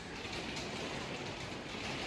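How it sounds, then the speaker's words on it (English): Heavy rain pours outdoors in a steady, dense hiss with no breaks or separate drops standing out, and no voices over it. "Oh, it's pouring rain outside."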